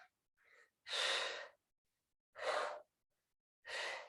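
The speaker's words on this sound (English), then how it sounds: "Just nice, smooth breathing." Three slow, smooth breaths during an exercise workout, each a soft, airy exhale lasting about half a second, spaced by silence, close and clear.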